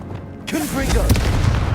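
A Confringo fire spell going off in Hogwarts Legacy: a voice calls out, then a loud, rumbling blast swells and lingers.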